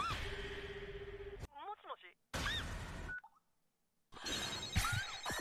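A short electronic ringtone melody plays between bursts of lively talk, with brief tonal chirps and beeps standing out in gaps of near silence.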